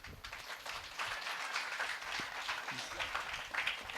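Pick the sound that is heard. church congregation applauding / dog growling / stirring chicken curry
church congregation applauding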